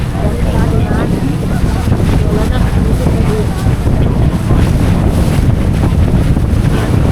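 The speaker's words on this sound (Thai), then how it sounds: "และลมแรงด้วยเนาะ" Strong wind buffets the microphone aboard a boat near Niagara Falls, a loud, constant roar mixed with rushing water throughout.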